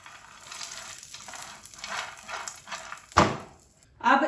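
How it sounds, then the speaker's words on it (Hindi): Pistachios, almonds and cashews fry in a pan, giving an uneven crackling sizzle that swells and fades with stirring, punctuated by a sharp knock or clatter near the end. "अभी इन चीज़ों को फ्राई करेंगे"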